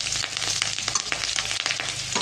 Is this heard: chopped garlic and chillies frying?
yes